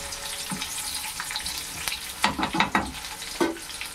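Nellore-style fish curry fries in a pan under a low, steady sizzle, broken by a few close scraping stirs and bubbling bursts toward the end.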